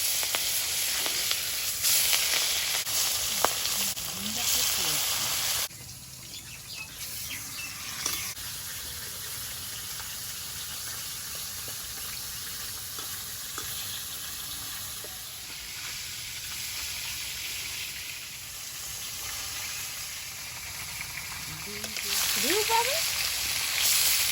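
Large mrigal fish frying in oil in a wok, giving a bright sizzling hiss that swells at the start and end and settles lower in the middle, with a voice talking over it.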